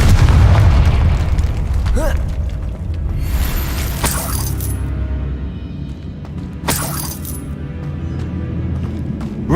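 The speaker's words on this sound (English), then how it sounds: "Confringo!" The Confringo fire spell explodes in the Hogwarts Legacy video game, with loud booming blasts, shattering crashes and rumbling game effects that run under heavy, continuous action.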